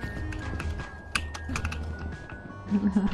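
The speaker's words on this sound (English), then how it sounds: "Your keyboard's so fucking loud" Loud clacking of a computer keyboard picked up on a gamer's microphone during a Lethal Company session, quick irregular keystrokes close to the mic with a low voice murmuring briefly near the end.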